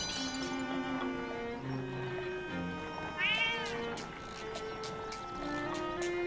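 A cat in the video game Zelda: Echoes of Wisdom gives a clear meow over a bed of game music, a single prominent call standing out midway through the melody.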